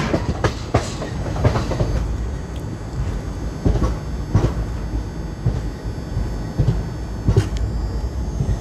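The Koyna Express rolls into Satara railway station, wheels clattering over rail joints in a loud, steady rhythm of clicks and thuds above a continuous low rumble.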